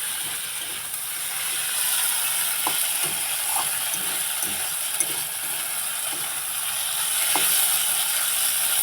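Vegetable curry simmers and is stirred in a pan, a continuous soft sizzle with occasional light scrapes and taps of the spoon, close and steady with no voices.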